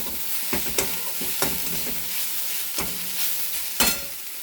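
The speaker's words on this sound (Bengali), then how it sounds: "মুলো শাকও আমার ভাজা হয়ে গেল" Radish greens fry in a pan, a steady oily sizzle broken by several sharp scraping stirs of a spatula against the metal, close and with no voices.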